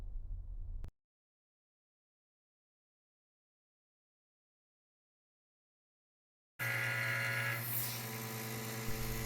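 Vacuum pump pulling down a chamber for a cardboard 'gravity control' test: a brief low hum at the start, long silence, then a loud steady motor drone with rising whine running to the end, no talking.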